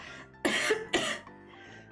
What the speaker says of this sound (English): Oh, so I need to cough again.